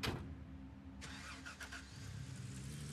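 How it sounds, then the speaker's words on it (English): A truck engine in the Gold Rush video game cranks and catches, a broadband burst of starter noise at about the one-second mark, then settles into a steady, loud mid-range running hum. No one speaks. "We jump in the truck to get that one in."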